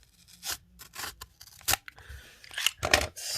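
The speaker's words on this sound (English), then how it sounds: "So we cut the tape" Scissors snipping through packing tape on a mailed package, a series of sharp close cuts and crinkling rubs in an uneven rhythm, with no voices.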